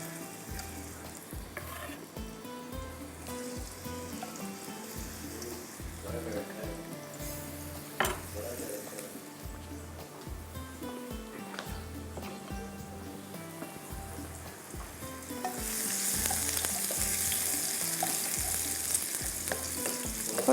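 Chopped ginger frying in oil in a pan, stirred with a utensil. A soft, steady sizzle runs under regular scraping strokes and swells louder near the end. No one speaks.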